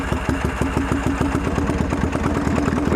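A V-Rod style motorcycle engine cranks over with the fuel shut off and the throttle held wide open, a steady rapid chug of starter-driven compression pulses running throughout, loud and close.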